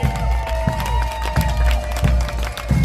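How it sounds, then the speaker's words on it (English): Outdoor crowd at a St. Patrick's Day parade on Las Olas in Fort Lauderdale applauding firefighters and first responders, scattered clapping and cheering under steady street noise and music, with a few louder bursts. "How about a round of applause for our firefighters and first responders?"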